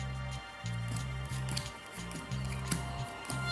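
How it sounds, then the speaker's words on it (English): Playing cards are dealt face up onto a table in quick, soft snaps and slides, close and fairly quiet over a steady low hum. "now we're going to deal out cards face up"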